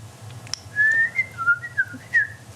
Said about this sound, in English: Can you guys whistle?